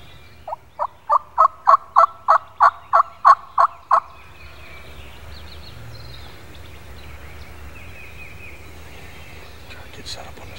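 A wild turkey gobbler gobbles in a rapid, loud rattling burst lasting a few seconds in response to a call during a turkey hunt, followed by quiet outdoor ambience with faint distant sounds.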